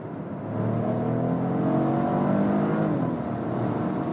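A 1.5-litre three-cylinder engine in a premium compact SUV, running in power mode, pulls hard from 50 to 100 km/h with a sonorous drone that climbs steadily in pitch, loud and close.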